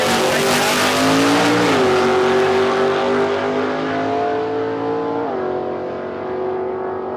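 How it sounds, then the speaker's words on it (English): Mustang drag car at Palmyra Raceway rolling back up the line, a loud sustained engine drone with steady harmonics that shift down twice as it idles and revs, close and continuous throughout. "Matt Walsh rolls back up the line again, the Mustang"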